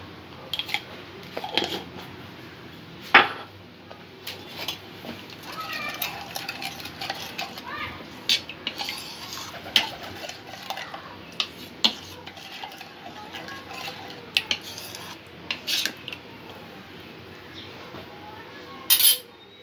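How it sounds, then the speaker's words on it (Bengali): A spoon stirs ingredients for a chocolate milk pudding in a container, producing steady scraping and clinking against the sides with occasional sharper taps, close and continuous for about twenty seconds. "সমস্ত উপকরণগুলো ভালো করে মিক্স করে নেব।"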